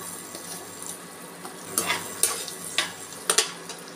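Finely chopped large onion frying in oil in a kadai, a soft steady sizzle with several sharper stirring scrapes and clinks of a utensil against the pan, close by and with no talking.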